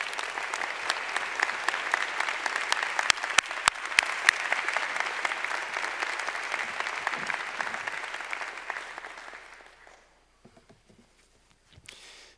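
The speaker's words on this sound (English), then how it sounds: "let's also give him a round of applause for his great contributions to SAIS" Sustained audience applause at a university commencement ceremony, a broad wash of many hands clapping at steady loudness for about nine seconds before fading out, with a few scattered claps afterward.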